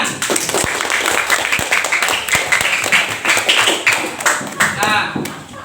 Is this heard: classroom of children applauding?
yes